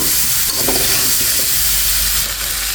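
Hot water splashes into a pan of frying potatoes and snakehead fish with spices, giving a loud, steady sizzling hiss with bubbling and a few stirring knocks, close up throughout.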